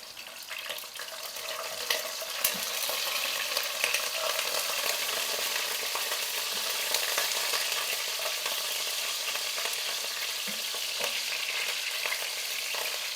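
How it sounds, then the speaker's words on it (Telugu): Green chillies and small brinjals fry in a pan, a steady soft crackling sizzle with occasional faint clinks of stirring, moderately quiet throughout. "వంకాయలు కూడా బాగా వేపేసుకుందాం."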